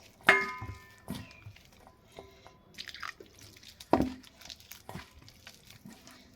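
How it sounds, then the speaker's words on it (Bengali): Sattu flour is kneaded by hand with chopped raw onion and a little water, making close, soft wet squelches and pats in an irregular rhythm, with a few sharper slaps standing out against near silence. "দিয়ে দিচ্ছি সামান্য পরিমাণে জল দিয়ে আমি ছাতুটা মেখে নিচ্ছি।"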